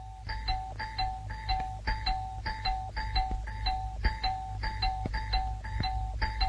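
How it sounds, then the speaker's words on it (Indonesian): A short-circuited doorbell rings over and over without stopping, a regular string of bright ding tones repeating about twice a second over a low hum, alone with no talk. "Belnya koslet, bunyi terus"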